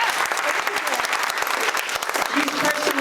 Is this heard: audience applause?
yes